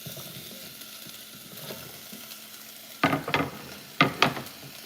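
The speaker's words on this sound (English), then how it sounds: "hot and sizzling." Squash sizzling in a hot frying pan, a steady low frying hiss with two louder bursts of crackling spatter near the end, close up with no talk.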